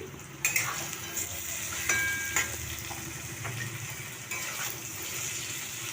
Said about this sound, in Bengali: এটা একটু তেলে ভেজে নিই।